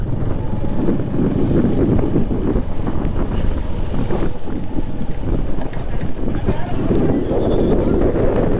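Rough sea surging onto the shore at the southern tip of Tamil Nadu, a loud continuous roar of breaking waves mixed with heavy wind buffeting the microphone, with a voice speaking over it.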